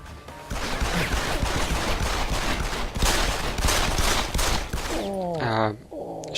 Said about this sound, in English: Shooting in this game is absolutely awful, as I just found out.